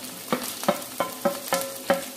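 Sliced onions sautéing in a pan for a chickpea and soya chunk curry, a steady sizzle punctuated by about six rhythmic scraping stirs of a utensil against the pan, close and fairly clear.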